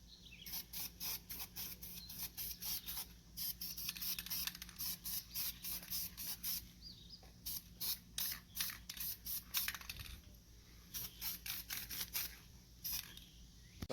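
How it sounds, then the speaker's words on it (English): Short bursts of an aerosol can spraying white Duplicolor engine enamel onto sanded emblems, repeated in a steady rhythm of hissing passes with brief pauses between, close and fairly loud. "So time to spray."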